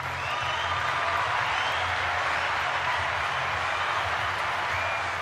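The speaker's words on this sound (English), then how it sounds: "Let me give Leon a round of applause." Watch-party crowd applauds and cheers in a steady, dense wash of clapping that runs the whole time, with voices mixed into the noise.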